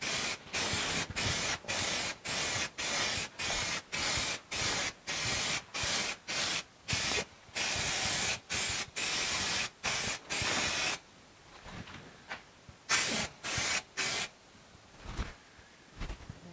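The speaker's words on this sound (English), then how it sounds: "just a little touch of the primer again, just to have it there." Primer sprays onto a small rust repair on a car body in quick repeated hissing bursts, about a second each with short gaps, then fainter scattered sprays near the end.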